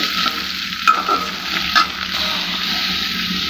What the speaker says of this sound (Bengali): ভাজা হচ্ছে শুটকি, কাঁচামরিচ আর পেঁয়াজ।